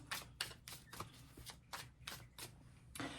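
Tarot cards being shuffled by hand, a run of quick papery riffling bursts repeating roughly every half second, close and fairly soft with no voices.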